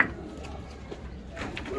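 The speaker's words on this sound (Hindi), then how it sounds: "बस एक सियालकोटी कबूतर है" Soft cooing of a Sialkoti pigeon in a quiet space, low and faint, with light background rustle and no speech.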